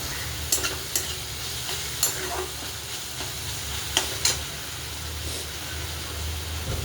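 Tomatoes with salt and turmeric sizzle steadily in a hot pan for an okra and green chilli dish, with a constant frying hiss broken by several clinking stirs of a spoon against the pan.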